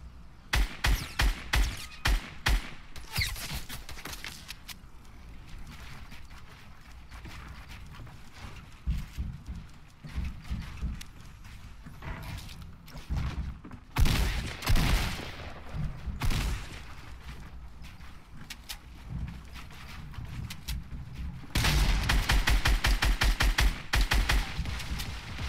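SCAR assault rifle fire in a Fortnite match, rapid bursts of shots crackling on and off throughout, with a heavy sustained volley near the end.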